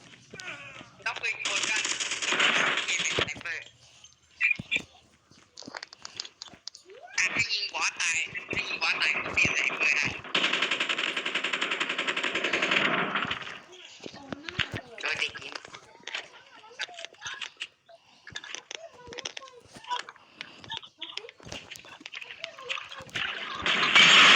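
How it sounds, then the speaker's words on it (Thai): Rapid bursts of machine gun fire from the Call of Duty video game rattle repeatedly in long, loud stretches with short gaps between them, while players talk over the gunfire. "พี่ใช้ปืนกลน่ะ พี่โกงอ่ะ"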